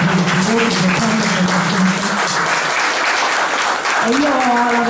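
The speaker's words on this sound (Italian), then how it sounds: "Vorrei un applauso" At a political assembly in Ancona, an audience breaks into sustained applause, a broad steady wash of clapping heard under and between a speaker's amplified voice.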